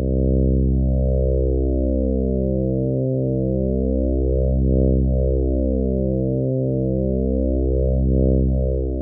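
Two detuned synthesizer oscillators in VCV Rack drone on a steady, buzzy low bass note, their slow phase beating producing a regular swell and dip every few seconds, loud and continuous with no voices.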